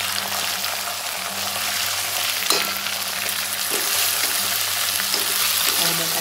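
Potatoes fry in a hot pan with a steady, loud sizzle, broken by a few scraping stirs of a utensil across the surface.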